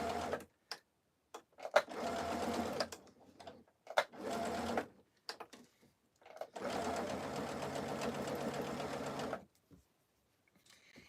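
Close sewing machine stitching fabric for Christmas tea towels, running in bursts of whirring needle chatter, short runs then a longer steady stretch, separated by quiet pauses.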